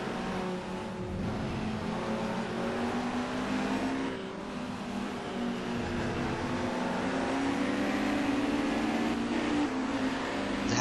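Holden race car engine droning around the Spa circuit, a steady sustained roar with slight pitch shifts, heard from inside or close by, with no talking.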